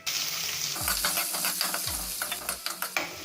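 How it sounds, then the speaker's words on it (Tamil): Finely chopped onions dropped into hot oil with popped mustard seeds and chana dal, sizzling steadily while a spoon scrapes and stirs the pan in a few close, sweeping strokes. "கடுகு பொரிஞ்சதையும் பொடியாக நறுக்கி வச்சிருக்கிற வெங்காயத்தை போட்டுருங்க."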